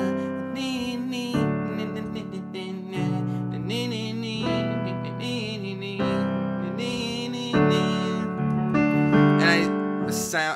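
Piano plays the transition chord pattern of a song: block chords that change every second or so under a moving melody line. It sounds close and full, with no voice over it.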